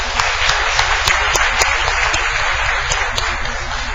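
Church congregation applauding the choir after a hymn, giving steady, dense clapping at fairly high volume with a few sharper individual claps standing out, sustained evenly throughout.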